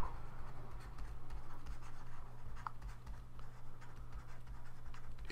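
A pen scratches steadily across paper as a short sentence is handwritten, with continuous close scribbling strokes over a low background hum.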